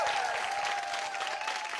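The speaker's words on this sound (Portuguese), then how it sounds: "Palmas pra ele!" A studio audience claps steadily through a television show, a dense, even wash of applause with a sustained musical tone underneath and no talking.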